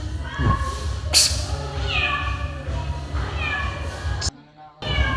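A cat meows several times, drawn-out and plaintive, close by over a steady background hum.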